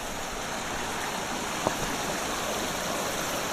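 Water runs steadily in a stream swollen by rain from the previous day. It makes a close, continuous broadband rush with one brief splash midway.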